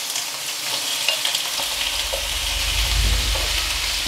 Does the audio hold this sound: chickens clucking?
no